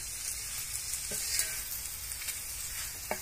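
Okra fries in a pan with a soft, continuous sizzle, fairly quiet, and a couple of faint stirring knocks stand out against it.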